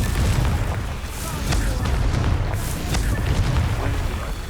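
Confringo spell explosion in Hogwarts Legacy, a heavy, rumbling boom with a broad, roaring blast that holds for several seconds.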